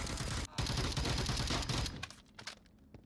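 Rapid gunfire bursts and a grenade blast in the VR shooter Onward, a dense loud volley that cuts off abruptly and leaves a few scattered, fainter shots trailing away.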